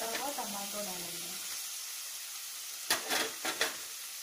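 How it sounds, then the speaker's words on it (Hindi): Chopped tomato and onion fry in a pan for aloo chaat, a soft sizzling hiss that follows a brief voice and is broken by a few sharper stirring scrapes near the end. "इसको फिर अच्छे से मिक्स करके फ्राई कीजिए।"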